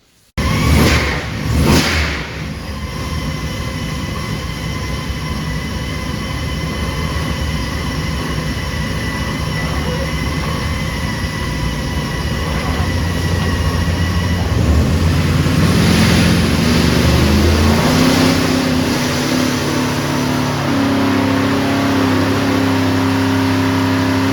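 A small-block Chevy engine with a Torqstorm supercharger and a 1,000 CFM carburetor running methanol roars on a dyno, starting with a few sharp blips and then holding a loud, sustained rev that climbs in pitch toward the end.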